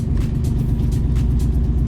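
A Bentley on ADV1 wheels drives along during rolling shots, a steady, loud, close engine and road rumble that holds evenly throughout with no talk over it.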